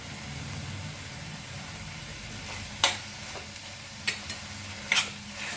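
Bottle gourd cooked with khoa is stirred and sautéed in a pan, giving a low steady sizzle with a few sharp scrapes and clinks of the spoon against the metal.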